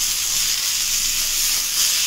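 Chow chow vegetables and tamarind sauté in a hot pan, giving a steady, close, continuous sizzle with soft hiss that holds level throughout.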